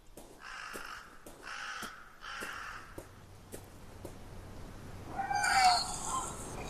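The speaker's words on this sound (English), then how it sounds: "There's a dying crow amidst a pool of blood." A dying crow in a video game caws three times in a slow, evenly spaced rhythm: hoarse, drawn-out calls that sound close. A brighter, scratchier cry rises over a faint hiss near the end.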